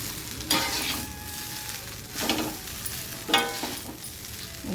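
Cooked Ponni rice is stirred into okra masala in a pan, with three distinct scraping strokes over a faint, steady sizzle and no voices.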